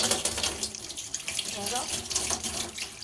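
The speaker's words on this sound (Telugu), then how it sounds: "ఇప్పుడేమో పిండిని కడిగితే ఏది మామూలు నీళ్ళు ఇదిగో వైట్గా ఇంకా కడుగుదాం" Running water rinsing wheat flour dough by hand in a bowl, a close, continuous splashing and gushing with brief swirls, lasting a few seconds with a voice talking over it.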